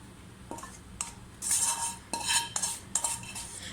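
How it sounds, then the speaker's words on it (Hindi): Spoon scraping and clinking against a pan and serving dish as Bengali-style kala chana or aloo chaat is dished out, a series of close scrapes and taps with short pauses, no talking. "अब मैं डिश में निकाल लूँगी, आप देख सकते हैं।"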